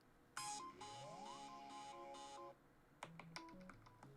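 A phone alarm tone plays from a handset held with a thumb over the speaker: a rising melodic sweep into a pulsing series of repeated electronic beeps, a short pause, then a run of bright plucked chime notes, fairly loud and alone.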